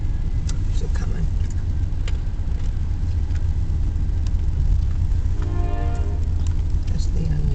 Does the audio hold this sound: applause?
no